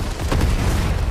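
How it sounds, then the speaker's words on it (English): A grenade explosion in Fortnite Chapter 5: a single heavy, close boom with a dense, rumbling low-end body that fills the brief moment. "Motherfuckers throwing nades, bro."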